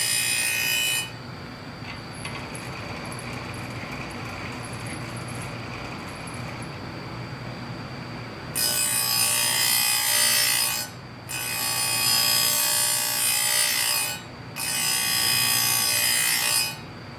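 A file rasps across chainsaw chain teeth during sharpening, first as a quieter steady rubbing, then as three loud, close strokes in a row, each separated by a short pause.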